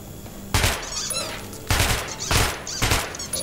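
Gunfire at a shooting range in the Metro 2033 video game comes as three loud, sharp bursts of shots spaced about a second apart, each with a short ringing tail, close and with no talk.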